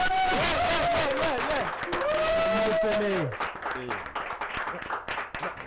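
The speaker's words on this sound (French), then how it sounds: "Applaudissements, s'il vous plaît" Studio applause on a French radio morning show, a burst of clapping under curving musical tones and voices that fades into scattered claps after about three seconds.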